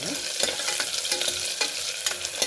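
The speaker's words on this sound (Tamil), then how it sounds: "வெங்காயம் வந்து நல்லா வதக்கிக்கலாம்" Onion sautés in oil in a pan for a green peas pulao, giving a steady sizzle with repeated scraping stirs of a spoon, close and alone without talk.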